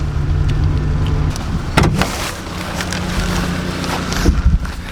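A car driving through rain on the way to a village, steady engine and road rumble with a low hum, a few sharp knocks and rustles on board, no talk.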